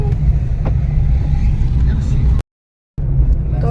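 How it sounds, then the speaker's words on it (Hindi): Steady low engine hum and road rumble from inside a moving car, a close constant drone that drops out briefly near the end, with people talking over it. "अभी गाड़ी में ही बैठे हैं हम अपने घर की तरफ"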